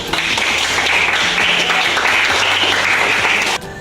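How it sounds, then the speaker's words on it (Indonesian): An audience at a school lesson claims a dense, steady round of clapping that runs loud and even for several seconds before cutting off. "Tepuk tangan dulu."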